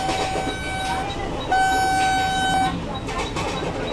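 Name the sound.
Vande Bharat Express train passing in Train Simulator video game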